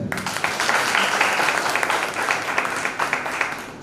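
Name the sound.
audience clapping at a festival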